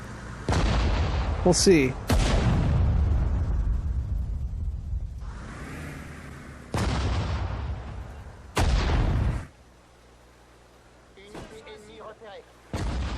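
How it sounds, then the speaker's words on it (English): An artillery piece in the World War II strategy game Sudden Strike 4 fires repeatedly, each shot a sharp, loud boom with a rumbling tail, spaced a few seconds apart, with brief talking between the blasts. "That artillery piece is doing pretty good."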